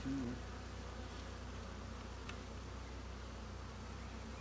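Honey bee colony humming as the hive is closed up after an acacia honey harvest, a soft, steady, moderately distant drone of many bees with a brief louder buzz near the start.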